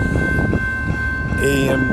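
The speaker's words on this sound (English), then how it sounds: "video footage of trains at Montreal West" An EXO commuter train at Montreal West station rumbles steadily and close, with a horn-like tone sounding late and a faint voice underneath.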